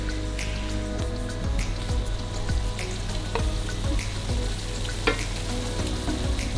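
Browned ground meat and pasta sauce for Greek pastitsio simmer in a pan while a utensil stirs, giving a steady sizzle with a run of close, rhythmic scraping strokes and no talking.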